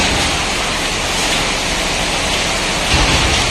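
Steady, dense rain pouring down close by, a continuous hiss with no pauses and a slight swell near the end.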